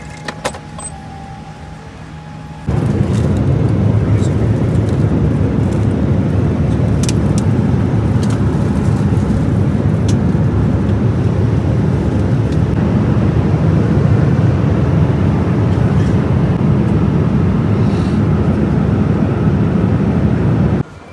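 A loud, steady low roar of engines fills the airplane cabin on a seven-hour flight to Abu Dhabi after a brief quieter start, continuous and unbroken.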